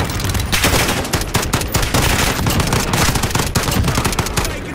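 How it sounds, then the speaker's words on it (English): Rapid automatic gunfire in a Call of Duty: Modern Warfare capture-the-flag match, dense loud bursts of shots rattling almost continuously with overlapping weapons, close and intense throughout. "Taking fire!"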